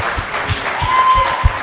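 An audience at a pan-African culture forum claps for its leaders, a brief, even wash of applause with a loose rhythmic pulse and no speech over it.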